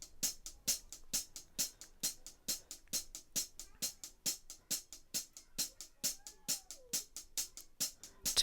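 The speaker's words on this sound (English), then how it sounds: "The hi-hats are playing in eighth notes with a light accent on the downbeat" Crisp hi-hat ticks in a steady eighth-note pulse, every other stroke a little louder with a light accent on the downbeat, played alone for several seconds.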